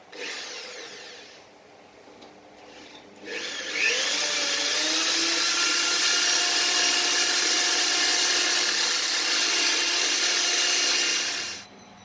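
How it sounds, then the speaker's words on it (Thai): A power drill bores into a wall to mount a curtain rail: after a quieter start, a loud, steady whirring grind runs unbroken for about eight seconds, then cuts off. "เราต้องเจาะ นะครับ"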